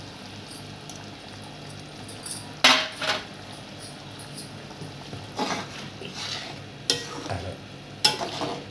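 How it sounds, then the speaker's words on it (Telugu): A spoon stirs fried eggs into a simmering Telangana-style buttermilk curry in a pot, with a soft bubbling sizzle under several sharp scraping, clinking stirs against the pan, close and without talk. "ఈ ఉడుకుతున్న పులుసులోకి ఇప్పుడు ముందుగా మనం బా వేడి వేయించుకున్న గుడ్డు దీంట్లో వేసేసుకుందాం"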